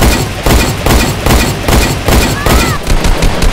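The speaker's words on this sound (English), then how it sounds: "Kazooie will transform into an assault rifle" Loud assault rifle fire from a Banjo & Kazooie fighting game move crackles in rapid bursts, repeated rhythmic volleys filling the clip with a brief whistling tone midway.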